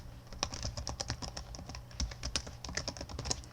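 Rapid typing on a computer keyboard while entering a name during Windows XP Pro setup, a dense run of crisp, close keystrokes with uneven rhythm and no speech.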